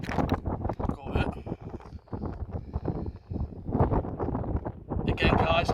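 Strong gusty wind buffeting the microphone on a sunny, windy day outside an old stone-built public grandstand, loud irregular rumbling bursts throughout with a person talking intermittently.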